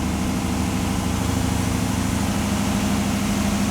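A 1976 Pontiac Trans Am engine idles steadily in a shop with its RPM set high, a loud continuous low rumble with even vibration and no talking over it.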